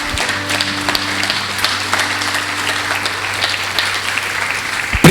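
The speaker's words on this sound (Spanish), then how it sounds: "Dele un fuerte aplauso al Señor." A church congregation claps together, with sustained applause over a low held organ or keyboard tone and a few sharp, louder claps near the end.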